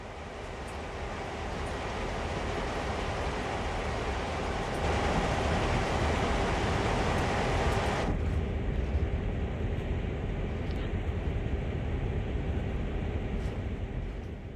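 A CSX heavy-haul freight train coasting along in Train Sim World, a continuous broadband rumble and rail roar that holds steady, then thins out partway through as the higher hiss drops away.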